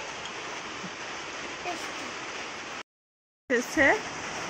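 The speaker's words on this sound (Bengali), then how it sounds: "একদম অনেক বৃষ্টি সারাদিন, এই নেড়া নেপেড়া বৃষ্টি এসেই আছে, মানে বৃষ্টি পড়েই যাচ্ছে" Heavy rain falls in a steady, dense hiss for nearly three seconds, then cuts out briefly and resumes, with a voice speaking over the returning downpour.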